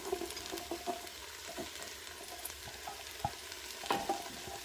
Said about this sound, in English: I wanted to spice things up too, so I'm adding the jalapenos and the garlic